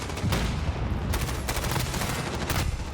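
Gunfire in the shooter Call of Duty during a professional league match: rapid bursts of shots crackle in quick succession over a busy background, fairly faint overall.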